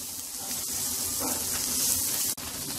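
Kashmiri red chillies and cashews sizzling in a pan while making paneer makhni, a steady bright hiss of frying oil throughout, with a brief clatter near the end.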